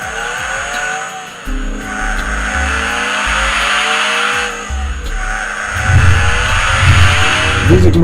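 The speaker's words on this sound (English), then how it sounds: "the engine still purrs like it was brand new." A convertible car's engine revs in repeated surges with tire squeal and skidding, loud and close, the revs climbing and dropping in bursts with no talking over them.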